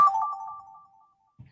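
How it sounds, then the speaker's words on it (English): A 1970s rotary telephone rings once, a close, bright bell tone that rings out and fades over about a second, followed by a faint low thump. "I have a rotary phone from the 70s, guys."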